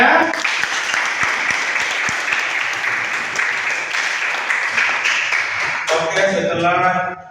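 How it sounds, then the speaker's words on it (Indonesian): A classroom of students applauds in a dense, steady burst of clapping that lasts several seconds before tapering off as a voice begins talking. "Mana tepuk tangannya?"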